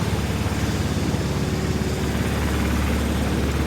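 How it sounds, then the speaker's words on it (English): A mattress panel production machine running at 1100 RPM, a dense, steady mechanical drone with a fast rhythmic pulse, loud and unbroken throughout. "now we just make the machine working speed 1100 RPM"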